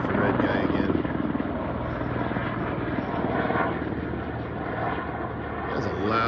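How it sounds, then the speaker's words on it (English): A low-flying helicopter passes overhead, its loud, continuous rotor and engine roar filling the scene at a steady level, with voices talking faintly underneath. "That's a loud chopper"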